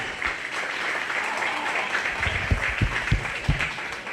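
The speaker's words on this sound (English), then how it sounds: "Give them a round of applause." Audience applause for young exhibitors at a 4-H/FFA sheep and little lambs show, fairly faint and diffuse across the space, with a few louder nearby thumps and knocks in the second half.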